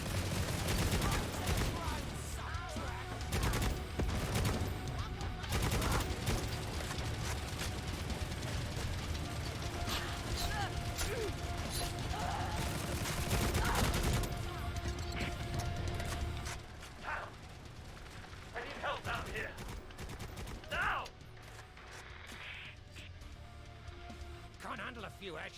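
Rapid gunfire from the Necromunda: Hired Gun video game, dense bursts of shots and automatic fire rattling through most of the stretch, loud and close, with someone talking over the combat.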